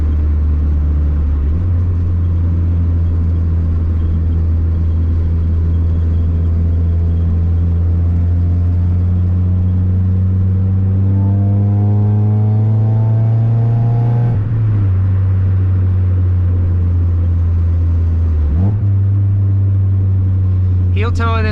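A Mazda Miata engine hums steadily, then climbs in a long rising rev before sharp blips during heel-toe downshifts, with a second quick blip near the end; a voice talks faintly over the cabin drone.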